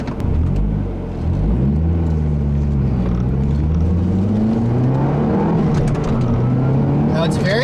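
A 2008 Mazdaspeed3 engine pulling hard on a test drive, heard from inside the car: loud, continuous rumble with rising and falling rev sweeps as it accelerates through the gears, dominating the whole stretch.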